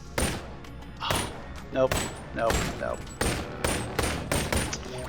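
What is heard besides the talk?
Uzi submachine gun firing in a video game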